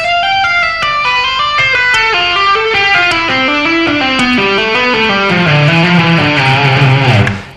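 An electric guitar with distortion runs down a scale in a rapid legato line of hammer-ons and pull-offs, the notes flowing smoothly and loudly in a continuous stream with no talking.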